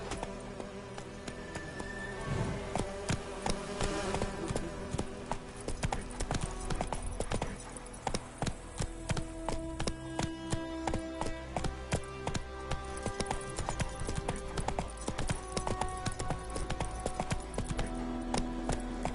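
Roach, a horse in The Witcher 3 video game, gallops with a steady, rapid clip-clop of hooves that carries through the whole stretch over a dense game soundtrack.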